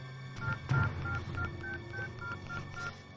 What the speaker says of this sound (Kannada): ನಿಖಿಲ್ ಫೋನ್ ಸ್ವಿಚ್ ಆಫ್ ಆಗಿದೆ